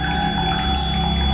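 Water gushes steadily into an empty bottle in the video game The Solus Project, a constant close, loud pouring rush with a faint rising tone, no talk.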